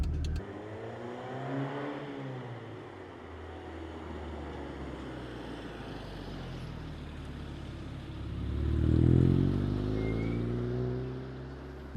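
A Honda CR-X engine idles and then revs up briefly, the rumble swelling around the middle and settling back down, heard from nearby without speech.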